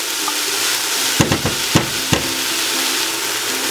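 Tomato paste and tomatoes stirred in a pan with a steady sizzling fry beneath a few distinct scraping, knocking strokes of a spoon, close and clear with no talk.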